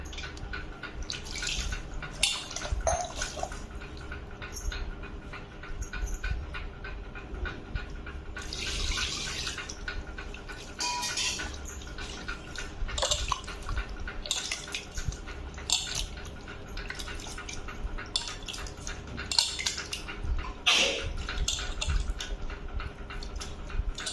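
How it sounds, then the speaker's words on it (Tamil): Water poured into ragi flour while making ragi koozh, a light continuous trickle and splashing with scattered drips, fairly faint and close, no talking. "இப்போ நம்ம தேவையான தண்ணி ஆட் பண்ணிக்கலாம்"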